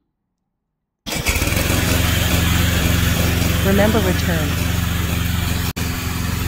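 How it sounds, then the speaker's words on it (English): A remote control lawn mower, model VTC550-90, has its engine started, then runs on at a loud, steady throb. A person talks briefly over it. "Start the engine."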